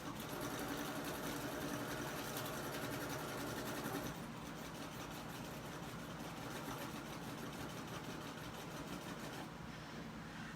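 A domestic sewing machine quilting small designs on a table runner gives a steady, continuous motor hum and needle whir that shifts slightly partway through and runs on without talk.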